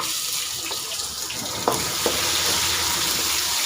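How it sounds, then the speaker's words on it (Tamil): Garlic and onion frying in oil for a Tamil cabbage kootu, a loud continuous hiss of sizzling with a couple of brief stirring scrapes partway through, no voices. "நல்லா அந்த பூண்டு கொஞ்சம் நல்லா ஃப்ரை ஆகட்டும்"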